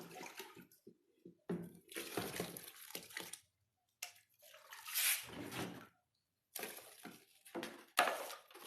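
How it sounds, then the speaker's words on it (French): Water poured into a liquid soap mixture during handmade liquid soap making, heard as several splashing, trickling bursts separated by brief silences. "je continue par ajouter de l'eau"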